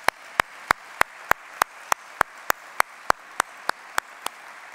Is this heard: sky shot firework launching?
no